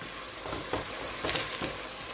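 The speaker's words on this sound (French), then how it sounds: "On va les faire revenir dans la marmite. Mélanger avec le beurre et" Onions sautéing in butter and olive oil in a pot, giving a soft, steady sizzle with a few faint stirring scrapes and no talking.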